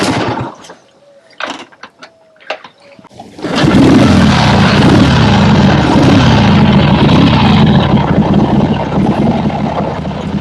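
A kick-started engine clatters through a few sharp kicks, then catches and roars into loud, steady running that holds to the end.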